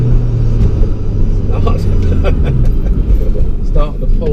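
Ford Focus ST3 driving on a slippery road at night, heard as a loud, steady low rumble of engine and tyre noise from inside the cabin, with faint scattered knocks over it.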